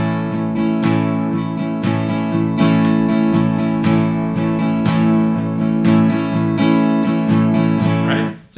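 Acoustic guitar strummed in a rhythmic pattern mimicking a song, steady up-and-down strokes ringing full and close for several seconds before stopping abruptly.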